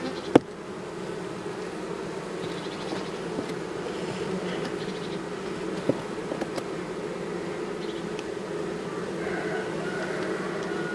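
A steady, low hum of many honeybees buzzing close by at an open hive of a colony that swarmed in April, with a few faint clicks and knocks scattered through it.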